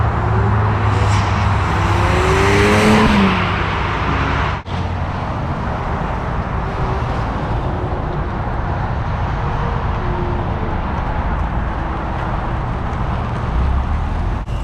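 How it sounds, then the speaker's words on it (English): A modified, rebuilt 2012 VW Golf R MK6 on a test drive produces a loud, steady engine and road roar from inside the car, with a rising rev at the start and a sharp knock around five seconds. "So we went ahead and took it for a test drive, as you guys saw"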